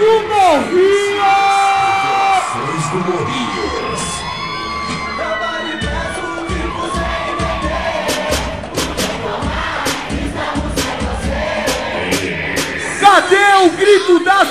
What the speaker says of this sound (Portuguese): Quero escutar o grito do Morrinho!